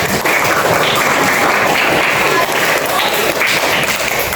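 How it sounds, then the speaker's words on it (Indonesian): Classroom of children clapping for their teacher at the end of a lesson, a loud, continuous burst of applause that stays even for a few seconds with some thumps mixed in. "Tepuk tangan untuk Ibu."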